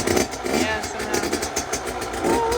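A KTM SX 85 dirt bike fitted with a 105cc big bore kit idles just after being kick-started, a steady mid-pitched engine putter running throughout beneath people talking nearby.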